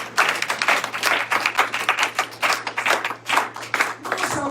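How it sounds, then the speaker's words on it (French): Congregation clapping during a Sunday church service: a smallish group claps in fairly distinct, close bursts over a low steady hum, the claps irregular and lively for several seconds before stopping. "Tu peux l'applaudir."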